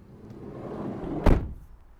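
A Mercedes-Benz Vito van's sliding side loading door rolls along and shuts with one firm thud, loud and close against a low background hum.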